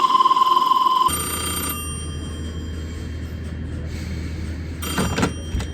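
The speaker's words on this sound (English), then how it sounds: "it passes that ringing signal to the telephone or switchboard connected to the line" An old-style telephone bell rings loudly for about a second at the start, then stops, leaving a steady low rumble and background clatter to the end.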